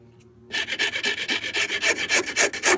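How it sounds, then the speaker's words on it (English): A coarse file rasps along a wooden edge of a storage box in quick, even back-and-forth strokes. After a brief quiet start, about a dozen loud, scratchy strokes follow in a steady rhythm, with no talking. "You could use a rasp, Which is a very coarse file."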